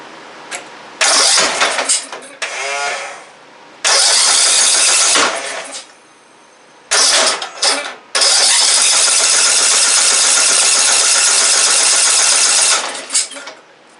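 A Craftsman lawn mower with a swapped pulley, once wrecked, cranks and sputters in several short bursts, cutting out between tries, before catching and running loudly for several seconds and then dying.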